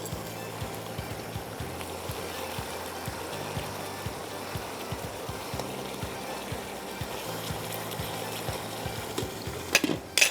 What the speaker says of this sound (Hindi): इसको पहले हल्का सा भुनने दीजिएगा